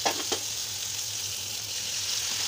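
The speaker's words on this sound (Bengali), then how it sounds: "তারপরে আমি এই কড়াইতে পেঁয়াজ দিয়ে দিব। পেঁয়াজটা ভাজা হয়ে গেলে তারপর আমি মশলা দিয়ে দিব।" Onion frying in a kadai gives a steady, dense sizzle, close and even throughout, with a couple of brief stirring scrapes at the start and no talk.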